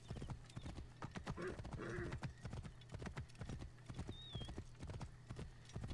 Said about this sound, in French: Ça faisait longtemps qu'on n'avait pas pris le cheval en même temps.